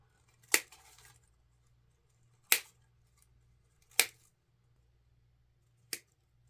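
Wax flower stems are snipped off a bush with shears, four sharp, isolated cuts spaced a second or two apart in an otherwise quiet space.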